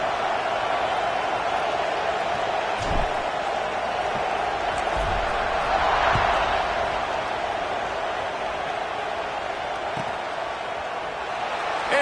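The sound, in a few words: crowd buzzing in a football video game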